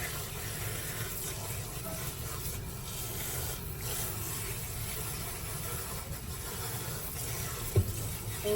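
Cool water running steadily from a tap while hair is rinsed, a constant close splashing hiss with a soft bump near the end and no talk.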